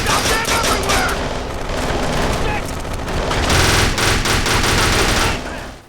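Chaotic gunfire from a shootout in Kane & Lynch 2: Dog Days, with dense machine-gun bursts and overlapping shots sustained at high volume for several seconds before cutting off, with voices faintly mixed in.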